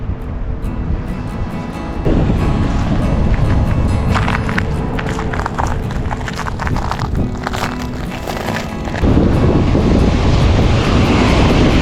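Ocean surf on a northeast Florida beach rolls in steadily beneath strong wind buffeting the microphone, with the wash swelling louder about two seconds in and again near the end, no voices present.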